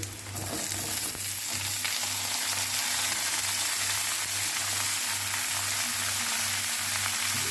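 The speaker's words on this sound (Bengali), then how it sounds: "পেঁয়াজটা ভাজা ভাজা হয়ে গেছে" Steady, loud sizzling of onions and vegetables frying in a pan, continuous crackle with faint stirring scrapes, no voices.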